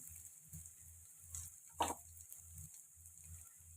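Okra fries in a pan with a soft continuous sizzle, a faint rhythmic ticking below it and one brief scrape of stirring partway through, quiet and close.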